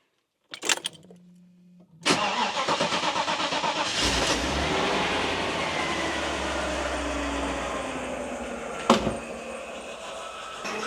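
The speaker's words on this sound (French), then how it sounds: "C'est juste au ralenti 10 minutes pour nettoyer le moteur." A Mercedes 500SL R107 engine starts up and settles into a steady, rumbling idle close by in the rain, with a brief clunk partway through.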